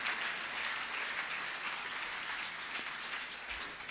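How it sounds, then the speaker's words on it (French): A church congregation applauding for the offerings during a service, dense continuous clapping from a large crowd, steady and fairly distant. "On acclame pour les offrandes"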